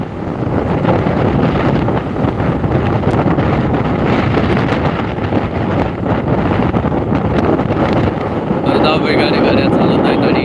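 Loud, steady wind buffeting an outdoor microphone at a live street event in Pune, a continuous broadband roar that fills the whole clip and rises slightly toward the end.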